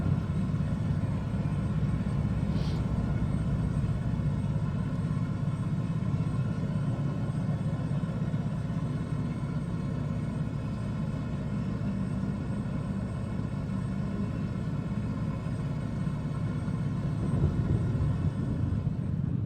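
Steady droning engine rumble of a taxi flight in the SWTOR video game, continuous and even throughout with no breaks or talking.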